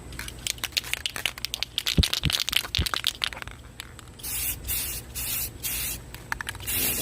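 Rust-Oleum Metallic Gold paint-and-primer aerosol can sprays in close, hissing bursts, first short and broken among rattling and handling noises, then longer steady blasts of spray with brief pauses between them.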